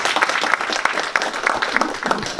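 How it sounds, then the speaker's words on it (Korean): A room of attendees at an industry forum's New Year gathering breaks into sustained applause, many hands clapping in a dense, steady patter with occasional sharper claps standing out, loud and close, without talking. "그런 의미에서 박수 한번 좀 주세요"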